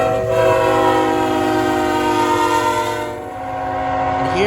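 CN freight train locomotive 3233 heading north, its horn sounding long and loud with multi-tone blasts over the rumble of passing cars, fading slightly then returning.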